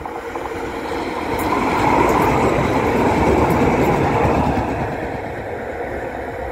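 A train rumbles past a foot level crossing at Benton Square, a broad roar that swells to a peak midway and then slowly fades as the cars roll by, with no talking.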